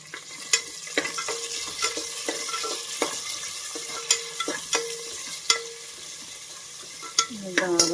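Onions sautéing in a pan for a rajma mixed vegetable curry, a steady close sizzle punctuated by regular scraping strokes of a stirring spoon against the pan, with no talking.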